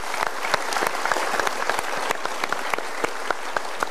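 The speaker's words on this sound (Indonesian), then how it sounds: "Kita berikan tepuk tangan dulu." A studio audience at a Mario Teguh talk show claps together, a dense, even burst of applause with sharp individual claps standing out, moderately loud and without speech.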